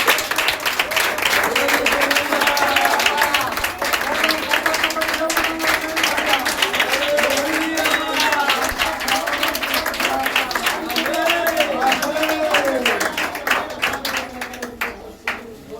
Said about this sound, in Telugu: ఆయన మనం ఉన్నట్టుగా గట్టిగా చప్పట్లు కొడుతూ